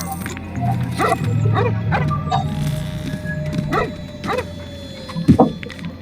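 Dog barking in the video game Lego Harry Potter, a run of sharp barks spaced through the clip over a steady game backdrop, ending in a louder cluster of close barks.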